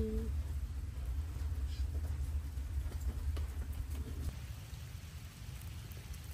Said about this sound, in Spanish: Con este clima, la lluvia cayéndote encima, el vaporcito.